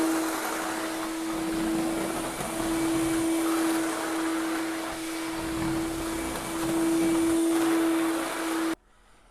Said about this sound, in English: We vacuumed it 3 times to make sure that we got everything up